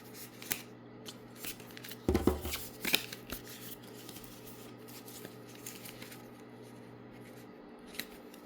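A deck of tarot cards is shuffled by hand in a quiet room, giving a burst of riffling patter that is followed by a few soft card flicks and brief taps.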